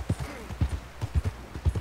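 A horse's hooves clip-clop in a quick, even trotting rhythm in the Red Dead Redemption video game, about a dozen close, punchy footfalls in paired beats across the stretch.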